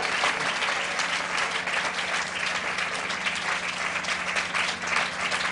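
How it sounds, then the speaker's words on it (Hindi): A church congregation claps hands together, a dense, sustained round of applause from many people that stays loud and even for several seconds. "छुटकारा ना मिलने के बावजूद भी ऐसे विश्वास के साथ ताली बजाओ, मुझे छुटकारा मिल गया"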